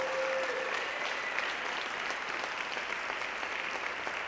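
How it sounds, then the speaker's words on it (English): An indoor audience at a dance event applauds performers, with steady, close, sustained clapping throughout and no voices standing out. "could we please have another round of applause for all the performers on the program today?"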